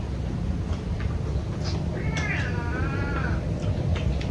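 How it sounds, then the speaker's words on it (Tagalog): A cat lets out a single drawn-out, wavering meow in the middle, fairly close, over a steady noisy room background at a home mealtime. "Sutil pusa na yan."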